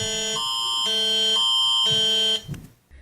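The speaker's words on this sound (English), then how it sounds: "the alarm tone that we all know and hate" A loud, harsh emergency alert tone blares, alternating between two buzzing pitches several times before cutting off abruptly.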